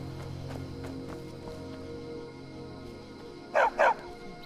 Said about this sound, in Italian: Ciao, bel cagnolino.